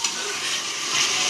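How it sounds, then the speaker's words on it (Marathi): Onion and tomato sizzling in a pan, a steady loud frying hiss heard up close and alone for a brief moment. "आता मी त्यात टाकते टोमॅटो।"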